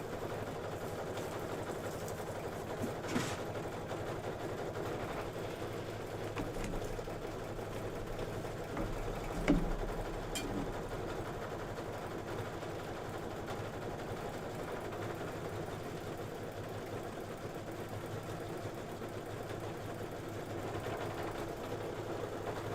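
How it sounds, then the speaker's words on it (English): An embroidery sewing machine runs steadily through satin stitching on a door decor project, a continuous mid-pitched mechanical hum with a few small clicks and one brief knock, no talking. "we're just going to be satin stitching"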